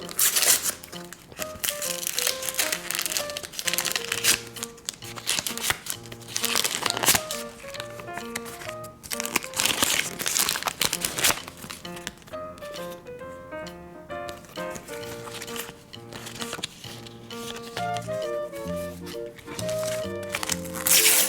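Plastic toy packaging crinkles and rustles in rapid handfuls as doll boxes for Heidi, Niloya and Masha cartoon toys are torn open, the crackling running steadily under background music.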